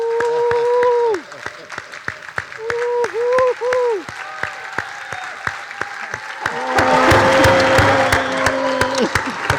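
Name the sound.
audience applause for Dr. Cornel West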